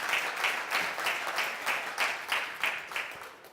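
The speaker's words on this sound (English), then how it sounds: "A round of applause for you." An audience at the 5th DXN European Leadership Camp applauds participants in rhythmic unison, claps landing in a steady regular beat, moderately distant and fairly quiet.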